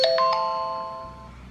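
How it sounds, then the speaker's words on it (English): A Toucan wireless doorbell plays its regular chime, a few clear bright ding tones struck in quick succession that ring out and fade over about a second, loud and close with nothing else heard. "I'll go with the regular chime."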